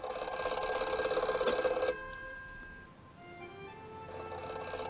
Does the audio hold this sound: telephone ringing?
yes